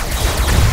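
Gunfire in RoboCraft, a robot-building combat game: a loud, dense, continuous roar of rapid shots and explosions in a very short burst.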